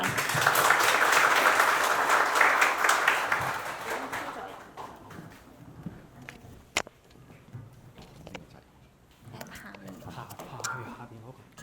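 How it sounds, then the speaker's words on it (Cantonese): Loud audience applause rises at a school biodiversity space-breeding programme launch ceremony on World Space Day, then fades after about four seconds, giving way to quiet room noise and a person beginning to talk. "大家掌聲有請"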